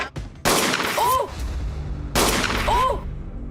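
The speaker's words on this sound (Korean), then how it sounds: "생각지도 못한 총소리였습니다." Gunshots in a dramatized reenactment of a hostage standoff in Korea, two loud sharp blasts about two seconds apart, each with a long rumbling tail and a tonal swooping effect.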